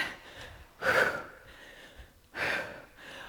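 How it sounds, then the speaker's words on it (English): Heavy, audible breaths during a TRX Slingshot full-body workout: two strong gasping exhales about a second and a half apart, close to the mic, with quieter panting between and no talk. "I'm running out of breath"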